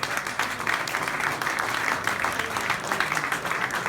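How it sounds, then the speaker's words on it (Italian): Steady audience applause fills a Ligurian dialect song festival hall, a dense, even wash of clapping held at constant loudness throughout. "un bel applauso."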